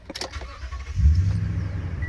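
A 2016 Toyota Tundra TRD Pro CrewMax pickup truck starts up: a brief starter crank followed by a low, steady engine rumble settling into idle, heard close with no talking.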